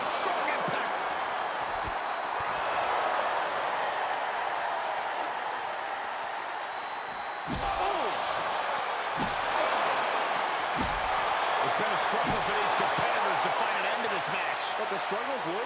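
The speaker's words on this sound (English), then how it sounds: "you hear this capacity crowd following you on that journey" Capacity arena crowd in the WWE 2K22 wrestling game during an Extreme Rules match, a steady loud roar and cheering throughout with sharp thuds and impacts from the ring, under ongoing commentary.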